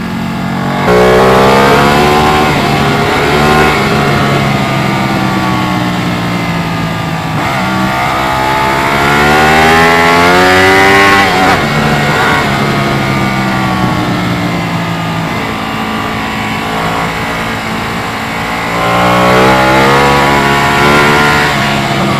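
A 2018 Ducati 959 motorcycle ridden hard, its engine revving loudly and continuously with repeated rising and falling pitch sweeps as it accelerates through the gears, close and steady throughout with no talk.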